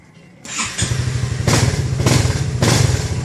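Small engine being restarted: a brief cranking burst, then it catches and settles into a loud, close, steady rapid putter with a few revving surges.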